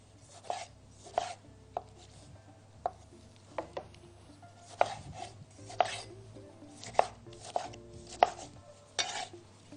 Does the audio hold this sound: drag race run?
no